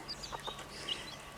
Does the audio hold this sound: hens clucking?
yes